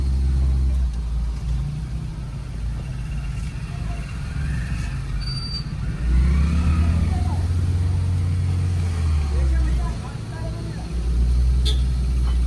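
A car creeps along in first gear during a driving lesson, its engine a low steady rumble with a slight rise in revs, while an instructor speaks over it.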